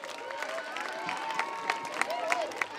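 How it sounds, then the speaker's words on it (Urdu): An audience applauds a guest at a primary school event, giving scattered, moderately loud claps that build into a steady patter under a lingering voice. "زوردار تالیوں کے ساتھ استقبال کریں"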